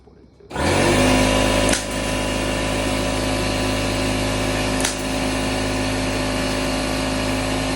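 A power tool starts abruptly and runs loud and steady while cutting a homemade fan shroud for a hot rod engine, with a couple of brief dips in pitch as the blade bites, no talk.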